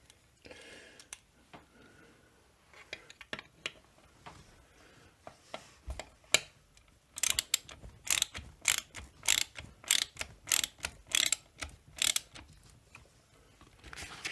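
A ratchet wrench tightens bolts on a FarmerTec MS380 chainsaw during a teardown. Quiet handling noises give way to a close, rhythmic series of sharp clicking bursts as the ratchet is cranked repeatedly.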